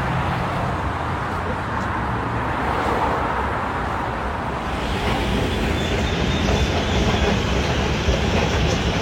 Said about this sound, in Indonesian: Jadi ini pertama kali dia naik MRT.